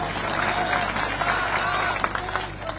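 An audience claps together, a thick continuous patter of hands with faint voices mixed underneath, lasting under three seconds.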